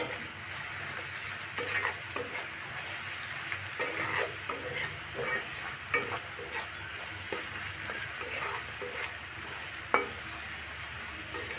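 Whole cumin seeds and onion fry in hot oil for a fish curry. A steady, close sizzle runs throughout, with occasional stirring scrapes and no talking.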